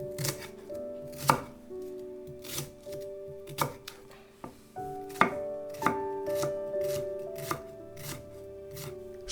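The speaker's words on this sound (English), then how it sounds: "Mince 2 shallots." A knife minces shallots on a cutting board in steady, close chops that come in short bursts, with soft tonal music underneath.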